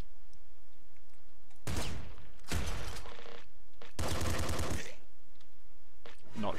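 Slugger gun in the game Nuclear Throne firing in two loud, dense bursts of rapid shots separated by brief pauses, close and harsh over quieter game background.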